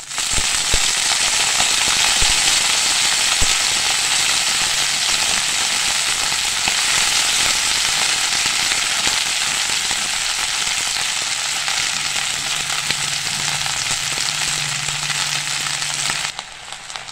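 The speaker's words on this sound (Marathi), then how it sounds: "आपण मेथी टाकतोय।" Fenugreek leaves drop into garlic already frying in a pan, and a loud, steady sizzle and crackle carries on without a break before cutting off near the end.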